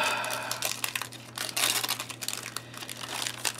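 Wax paper wrapping on civil defense ration crackers crinkles and crackles close by in quick irregular bursts, with no talking.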